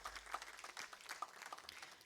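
An audience at a talk on India's foreign policy applauds a speaker taking the dais, a brief burst of scattered clapping heard at moderate distance.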